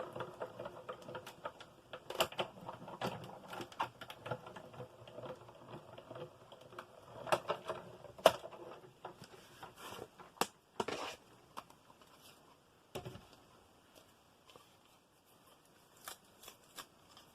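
A die cutting machine runs paper through its rollers at a crafting table, giving a steady run of soft clicks and rattling mechanical patter, close and fairly quiet, with a few sharper knocks.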